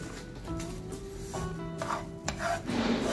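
Cashews, coconut, cardamom, dry ginger and dates are stirred in a pan, giving steady rubbing and scraping with light knocks of the spoon against the pan under a faint background tone.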